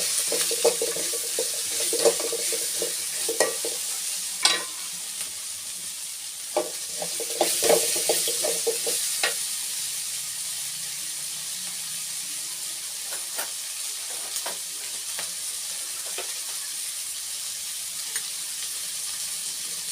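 Grated fresh coconut being roasted and stirred in a pan for a country chicken sambar, a steady bright sizzle with scattered scraping strokes of the spoon, close and continuous, no talking.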